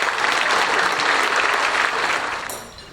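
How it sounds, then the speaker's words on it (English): Sustained applause from a crowd at a 2015 retirement luncheon for a deputy police chief, dense steady clapping that tapers off near the end with no voices over it. "give Ken a round of applause for his service"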